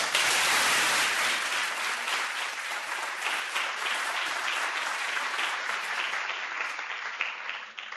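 A lecture audience applauds to welcome artist Lesley Dill, a sustained dense wash of clapping that stays loud throughout and tapers slightly toward the end.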